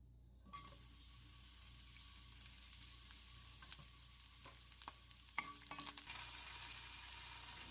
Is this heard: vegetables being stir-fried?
yes